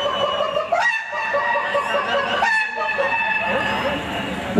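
A man imitates a rooster crowing with his voice, giving two drawn-out, rising cock-a-doodle calls close to the listener.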